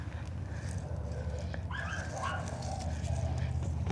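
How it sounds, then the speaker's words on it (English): Dogs in a Tucson garden setting give a brief whimper and a yip amid steady outdoor background noise, fairly faint and not a sustained bark, with a person talking nearby. "So if they start barking, I apologize."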